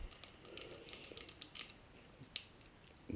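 Tin snips make a quick run of small, crisp metallic snips while cutting slits into the top of an aluminum bottle, close up and fairly quiet, with no talking.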